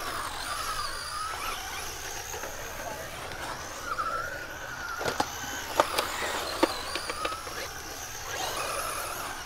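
Small RC car running at full speed around a skatepark, a thin high whining motor that rises and falls with sharp clacks and knocks as it rolls over the surface, fairly faint, with occasional talk.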